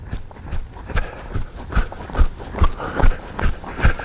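Steady clip-clop of horse hooves walking at an even pace, each footfall distinct and fairly close, with faint background noise.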